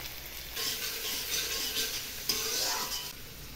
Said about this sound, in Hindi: अभी जाएगा प्याज, मिर्ची